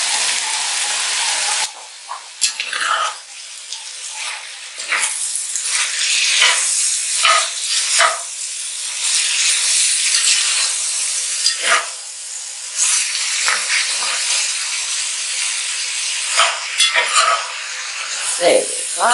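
Onions sizzle and fry steadily in a pan for a veggie stew with ginger and whole chili, a continuous close hiss broken by occasional stirring scrapes.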